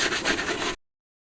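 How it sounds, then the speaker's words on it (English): Brisk scrubbing of grimy hard surfaces on an old truck with Super Clean degreaser, a close, dense rubbing rasp lasting under a second before cutting to silence. "Now a bit of light scrubbing."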